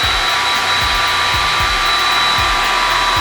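A hair dryer blows steadily and loudly up close, drying hand-painted acrylic paint on a custom hat, a constant whooshing roar with a faint rhythmic thumping underneath.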